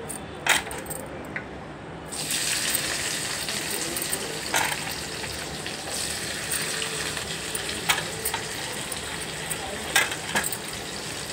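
Onions drop into hot oil for a tamarind-leaf and egg curry, setting off a steady sizzling hiss after a couple of clinks, with occasional spoon taps and stirring scrapes over the continuous frying.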